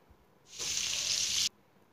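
Onions and spices are fried and stirred in a pan for aloo matar sabzi, a single loud hiss of sizzling that rises quickly, holds for about a second, then cuts off, with quiet room sound around it.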